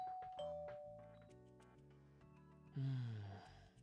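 A doorbell in a visual novel game rings several times in succession, clear electronic chimes sounding alone and close, with the last ring loudest before fading.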